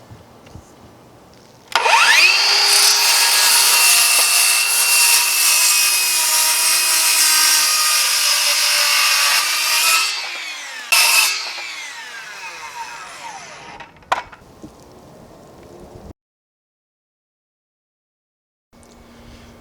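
Power saw slicing through four cedar fence pickets clamped together, a loud steady whine running for about eight seconds, then a brief second pass and a short burst before cutting off to silence.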